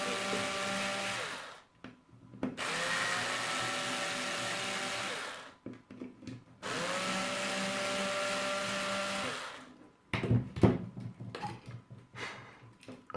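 A small electric screwdriver spins screws out of the plastic assembly of a Sonoff SC sensor unit, heard as three long, steady, whirring bursts up close, followed by a few seconds of clattering, rattling handling noise.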